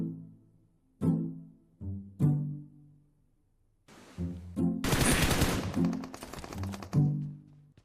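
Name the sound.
gunfire in a film scene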